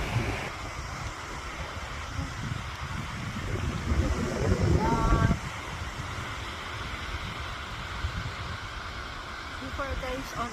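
Water pours out of a large waterfall-style dam in Taichung in a continuous broad roar mixed with wind, while people talk over it and a louder swell comes near the middle.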